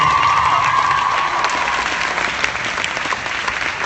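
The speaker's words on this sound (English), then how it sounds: "But guys, give them a big round of applause." Audience applause for guests at a Return To Tree Hill fan convention panel, a loud dense wash of clapping that holds steady and tapers slightly over a few seconds.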